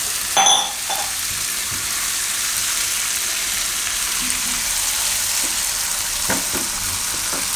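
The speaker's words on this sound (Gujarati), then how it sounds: "તો હવે આપણે એમાં નાખી દઈશું પનીરને મિક્સ કરી લઈશું આમાં" Paneer is stirred into a sizzling jalfrezi masala in a pan: a steady, close frying hiss runs throughout, punctuated by a few scraping and clinking strokes from the stirring.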